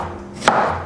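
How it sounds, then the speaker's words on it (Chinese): A single sharp knife chop through a washed green lime, one crisp cut standing out near and clear against a quiet kitchen background with no voices. "把洗净的柠檬切片"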